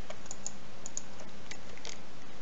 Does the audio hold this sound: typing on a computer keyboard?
yes